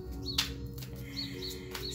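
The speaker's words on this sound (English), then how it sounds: "You hear those birds?" Faint, brief bird chirps, a few short tweets spaced irregularly over a low background hum.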